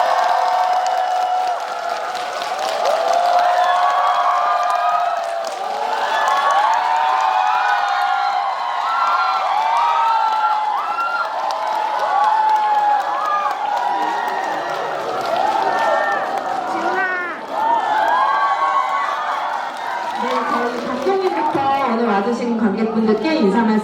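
A cinema audience at a stage greeting for the film New Normal claps and cheers loudly and continuously, with shrill shouts and whoops rising above the crowd and voices mixed in.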